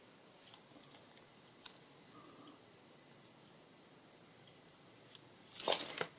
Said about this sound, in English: I'm just going to trim the logo out of the middle